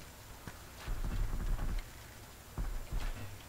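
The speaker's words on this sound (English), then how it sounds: "You can actually hear him making steps." Soft, low footfalls of a creature in the game Darkfall Unholy Wars thud a few times in two short bursts, fairly faint against a quiet background hum.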